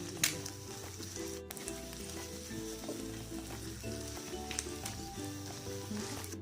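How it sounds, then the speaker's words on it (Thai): Eggs stir-frying in a pan for a chili-and-salt egg dish, a steady close sizzle with scraping stirs and spatula movement throughout, no talking. "ผัดไข่ค่ะ"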